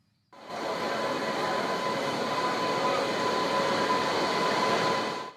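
A double-decker AC chair car train of the Uday Express series rumbles past on a trial run, a steady loud roar of wheels on rails with a faint high squeal, rising and holding throughout.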